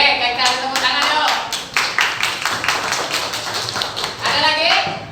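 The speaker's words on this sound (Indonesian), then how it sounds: "Oke, kita tepuk tangan yuk." A classroom group clapping together, a run of quick, even claps in unison, loud and close, with voices talking over the clapping.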